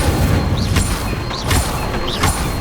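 Repeated fire spell casts in Hogwarts Legacy, each a booming whoosh with a rising magical chime, three in a row over a loud, continuous game soundscape.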